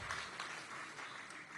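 A gala crowd in San Francisco applauds during a speech by Former Vice President Harris, producing a brief, even roar of distant clapping with no voices on top.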